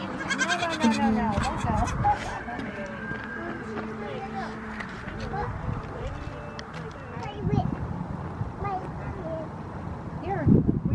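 Baby goats bleat repeatedly on a farm, several wavering cries near and far, mixed with hoof clatter and people talking over them.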